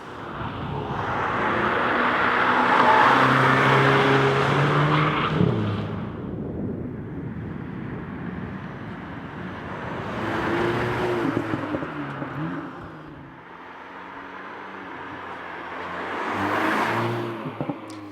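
VW Polo GTI with a 2-liter TSI engine revving and pulling through gears, rising and falling in three long surges with shifts between them, close and loud, no talk.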